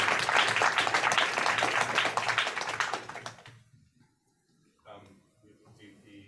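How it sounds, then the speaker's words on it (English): Audience applause for union organizers Chris Smalls and Derrick Palmer at an Amazon union event, dense, loud clapping for about three seconds that fades out, followed by faint room sounds and brief quiet voices. "another round of applause for Chris Smalls and Derrick Palmer"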